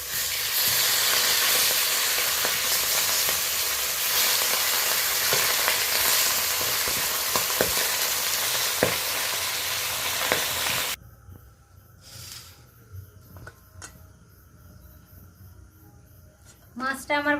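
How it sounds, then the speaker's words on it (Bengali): Bhetki fish heads frying in hot oil, a loud steady sizzle with crackling pops that cuts off abruptly partway through, leaving quiet room sound and a few clatters afterward. "এবার আমি মাথাগুলো তুলে দিয়েছি, মাথাগুলো ভাজা হচ্ছে।"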